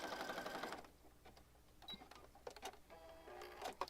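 A sewing machine stitches around the edge of an oversized eclectic junk journal page in short mechanical bursts with pauses between runs, fairly close and moderately loud.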